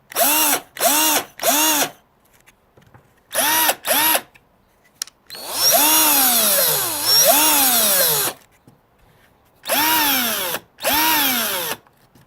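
An older power drill runs in a string of quick on-off trigger pulls, then one long run lasting several seconds with the motor pitch dipping and rising, then two more short bursts. All of it is close and loud, with no talking.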